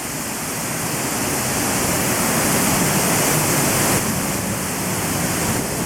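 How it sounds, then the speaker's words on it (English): Middle North Falls at Silver Falls in Oregon pours down as a steady, loud roar of falling water, heard up close from the path behind the waterfall, with no voices. "Going behind the waterfall."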